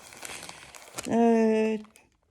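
Paper towel packaging crinkles in short, close rustling bursts, followed by a brief tonal squeak before the clip goes quiet.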